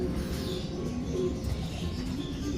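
Racing pigeons in a loft coo softly and repeatedly, low murmuring calls overlapping in a steady, close-up chorus with no talking.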